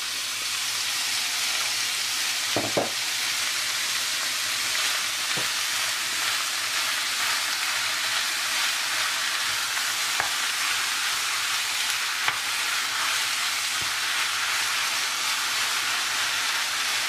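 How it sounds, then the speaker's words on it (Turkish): Steady, dense sizzling of sacrificial meat frying on high heat in a hot pan, a constant hiss with a few brief clicks and pops, no voices. "Tavamızı önce ısıtalım ve bu cız sesini duyalım."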